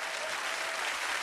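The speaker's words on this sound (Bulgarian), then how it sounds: "Аплодисмент за Любо Киров, оригинала." A studio audience applauds on a television show stage as Lubo Kirov is welcomed, with steady, dense clapping from many hands filling the whole moment at a moderate level.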